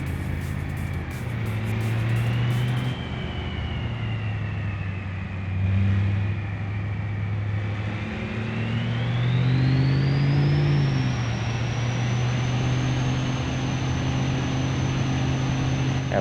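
Car engine in the BeamNG driving game hauling a load up a hill, a steady mid-low drone that rises in pitch and strain partway through, continuous and close with no talk.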